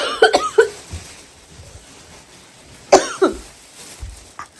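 Two bouts of close, harsh coughing from a person with a cold, a quick cluster at the start and another pair a few seconds later, with quiet between.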